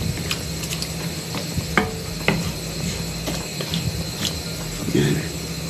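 Garlic and papaya for atsara cook in a pan, giving a faint, steady sizzle broken by scattered sharp clicks and scrapes of a utensil stirring.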